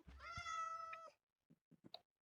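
Cats meow in a video game, one long clear meow followed by a few short, softer mews after a brief pause.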